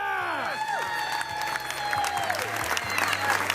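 A crowd cheers and applauds at the International Pizza Expo in Las Vegas during a pizza-making contest, a steady, dense wash of clapping and cheering with tonal chimes and sound effects running over it throughout.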